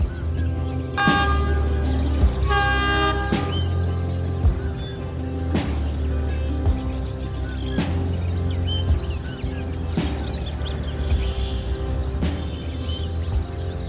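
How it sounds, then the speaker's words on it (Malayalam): A diesel tourist train on the Ooty mountain line rumbles past with loud short horn toots, together with rhythmic clanks and a steady low engine drone, while birds chirp faintly in the background. "അതൊരു ടൂറിസ്റ്റ് ട്രെയിനാണ്. പക്ഷെ ഇപ്പോഴും അത് ഡീസലാണ്."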